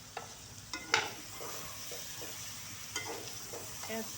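Bitter gourd and minced meat frying in ghee and being turned with a spatula, a steady soft sizzle broken by scattered scraping and clinking stirs, close and moderately quiet with no talking.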